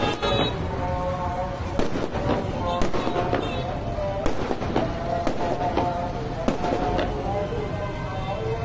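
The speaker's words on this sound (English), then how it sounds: "fireworks were being set off in the city by the locals" Fireworks going off over Aleppo as locals celebrate, a steady barrage of sharp cracks and pops at irregular intervals, loud and continuous over a noisy city background with indistinct voices.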